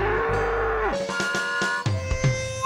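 Cattle mooing during a cow race, a long low bellow followed by further lowing calls and scuffling, loud and close with steady background noise.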